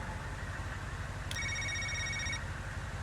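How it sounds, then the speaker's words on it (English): A phone rings with an incoming call as a single bright electronic tone lasting about a second, heard over a steady low rumble of background noise. "The phone chimes again."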